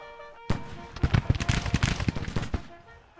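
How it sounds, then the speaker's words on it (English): A Civil War infantry line fires a rifle volley in a video game: after a quiet moment, a dense ragged crackle of many shots erupts and rolls for about two seconds, loud and close, then dies away. "Ready, steady, aim, fire!"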